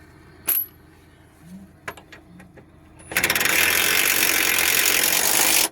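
A bolt on a Mitsubishi Outlander's lower suspension control arm is tightened with a 19mm ring spanner. A few scattered metallic clicks are followed by a loud, continuous rattling burst that lasts to the end.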